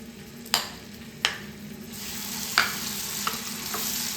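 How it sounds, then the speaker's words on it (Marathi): Onion and garlic-chili paste added to hot oil with cumin for a restaurant-style mushroom masala, giving a steady frying sizzle with a few sharp stirring clinks and scrapes of the spoon against the pan, close and without talk. "तेल गरम झाल्यावर थोडंसं जिरं टाकून घेऊया. आणि लगेचच कांदा आणि लसूण मिरचीची पेस्ट घालूया."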